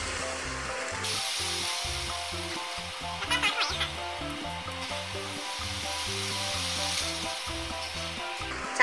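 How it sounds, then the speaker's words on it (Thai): Leek and minced pork stir-frying in a pan give a continuous sizzle, broken by rhythmic scraping and stirring strokes and a brief louder burst of splattering partway through. "จากนั้นนะคะเราก็ผัดให้หอมเข้ากันค่ะ"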